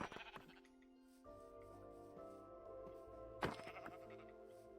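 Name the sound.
sheep bleating in a video game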